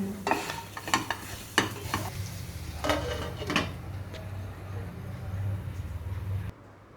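A spoon stirs grated coconut and jaggery in a pan, scraping and clinking in a few sharp strokes at first, then settling into a soft steady sizzle, with a person talking softly nearby.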